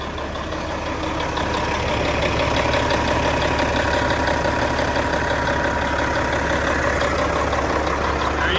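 A vehicle engine idles steadily and loudly up close, a continuous even rumble with a faint knocking texture running unchanged throughout, with no voices over it.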